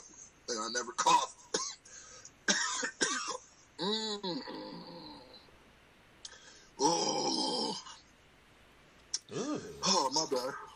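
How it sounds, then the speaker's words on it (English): Several short, harsh coughs come in bursts with pauses between them, close and fairly loud, mixed with grunts and throat sounds. "I've definitely seen you cough like 4 times"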